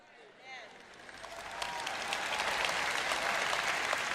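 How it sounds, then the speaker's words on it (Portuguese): Audience applause in a church or conference hall during a sermon, rising from quiet to a steady, fairly dense clapping that fills the room, with a voice faintly audible at the start. "Agora suas palmas estão ficando um pouco fraquinhas"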